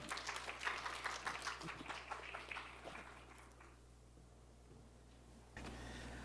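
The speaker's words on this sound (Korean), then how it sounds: "큰 박수로 환영해 주십시오." Applause welcoming a presenting team at a horse-industry idea competition, moderately loud at first and then thinning and fading to quiet room tone under a steady low hum.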